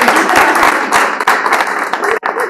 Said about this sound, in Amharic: ለሚስቴና ለልጆቼ ካላጨበጨባችሁ ሞቅ ብለኝ ስለማልቀጥል